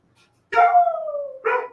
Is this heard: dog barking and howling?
yes